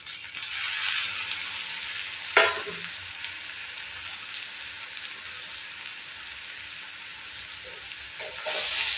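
Prawns frying with onions in a hot pan, a steady close sizzle broken by two brief stirring scrapes, with no talking.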